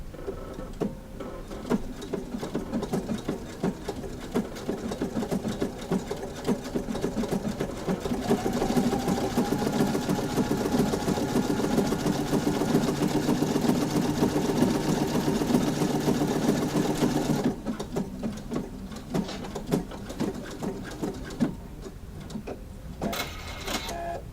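A sewing machine stitches steadily with a thread cutter in use, a continuous mechanical whir and clatter that grows louder and denser in the middle before easing back, with no talking.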